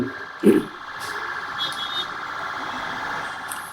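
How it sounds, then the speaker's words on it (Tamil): An approaching ambulance siren wails as a steady, sustained tone over street and traffic noise, with a brief thump near the start. "அந்த ஆம்புலன்ஸ் வருது அதுக்கு ஏதாவது வழி"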